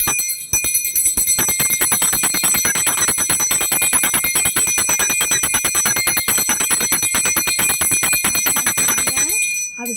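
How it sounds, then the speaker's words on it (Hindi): A small brass puja bell rings steadily and loudly during a home worship ritual, with rapid continuous strikes and a bright sustained metallic shimmer that lasts nearly the whole stretch before stopping abruptly. "घंटी बजाने के बाद"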